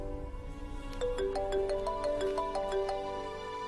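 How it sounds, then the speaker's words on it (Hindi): A phone ringtone plays a bright repeating electronic melody of stepped tones, clear and steady over a low background hum, with no one speaking. "देखो बेटा, किसका फोन है?"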